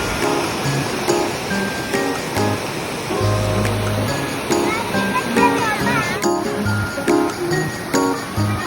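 Water rushes steadily at the Sukhtalai waterfall amid forested hills in Bannang Sata, Yala, a continuous mid-level wash with children's voices and splashing play mixed in throughout.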